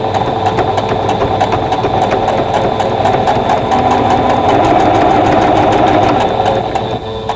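A sewing machine runs continuously while stitching a quilt block, a steady close mechanical hum and rapid needle clatter throughout without pause.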